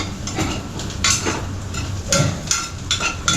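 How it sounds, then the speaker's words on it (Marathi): Onions stirred and fried in a pan until golden brown, with a soft continuous sizzle under repeated scraping and clinking strokes of a metal spoon against the pan. "आणि याला चांगलं परतायचं. कांदाचा गोल्डन ब्राऊन झाला पाहिजे"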